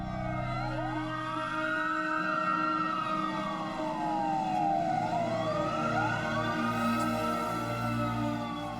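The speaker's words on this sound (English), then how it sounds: "he could hear sirens coming from miles around." Emergency sirens wail continuously after a factory explosion, their pitch sweeping slowly up and down in long loud cycles over a steady rumble.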